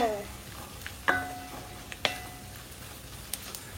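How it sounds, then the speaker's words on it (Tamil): Cashew nuts tossed into a hot frying pan while making aloo masala for masala dosa: a few sharp, faint clicks and clatters spaced apart over a soft, low sizzle. "இப்போ கொஞ்சம் கிரன்ச்சியா முந்திரி பருப்பு போடணும்."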